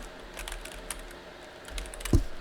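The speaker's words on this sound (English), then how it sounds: "We're going to type in Hyper-V." Quick, light keystrokes on a computer keyboard at a workstation, a short run of soft clicks over a quiet room hum, ending in a louder thump.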